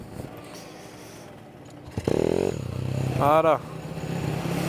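A motorcycle bump-started in second gear while rolling downhill catches and fires, its engine rising into a loud, close, uneven revving after a brief clunk, with a person talking just before it.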